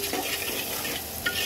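Turmeric, coriander and cumin spice mix being stirred in a frying pan, a steady scraping hiss with soft sizzling throughout and a brief clink near the end.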